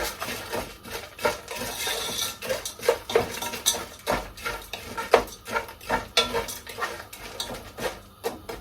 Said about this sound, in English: Give them a minute to fry up.